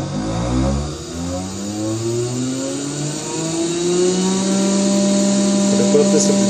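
A laboratory microcentrifuge spinning a tube at 13,000 G, its motor whine rising steadily in pitch as it speeds up, close and fairly loud.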